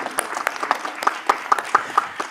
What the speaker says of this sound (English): A warmer round of applause for Tamrish Sinha.